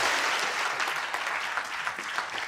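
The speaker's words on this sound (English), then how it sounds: "a big round of applause for Dora." A studio audience at a televised food science demonstration claps in a dense, sustained burst, loud and close throughout, with no voices over the applause.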